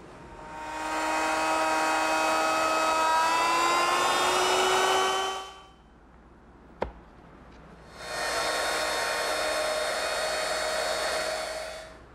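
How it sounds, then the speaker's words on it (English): A handheld router cuts out an inlay recess in wood, whining at high pitch in two long passes separated by a quiet pause with a single sharp click, its tone dipping slightly under load. "To remove the rest of the area of the inlay, I'm going to start with my router at one corner and move back and forth"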